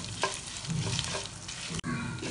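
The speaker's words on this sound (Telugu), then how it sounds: "ఎండుమిర్చి వేసుకొని వేయించుకోవాలి" Dried red chillies roasting in a pan with coriander seeds for a mint chutney; close sizzling with scraping stirring strokes and a short knock near the end, no talk.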